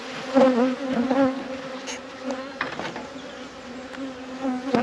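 Honey bees buzzing and flying around an open beehive after being calmed with smoke, a steady close insect drone with rising and falling whines as individual bees pass near.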